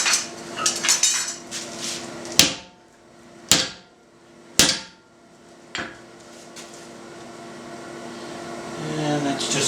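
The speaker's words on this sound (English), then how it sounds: "So we need to drive that bend out as well." Hammer blows straightening a bent felling wedge on a hard surface: four sharp, loud metallic strikes spaced about a second apart, with clattering handling noise before and after and a steady background hum.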